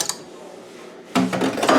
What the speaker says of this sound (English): So I am going to switch the beat paddle for this paddle.